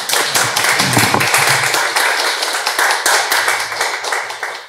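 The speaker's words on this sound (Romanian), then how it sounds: "Mă bucur că este aplaudat la scenă deschisă traducătorul." An audience at a literary event in a Cluj bookshop applauds a translator, with dense sustained clapping from many hands filling the room, close and lively throughout.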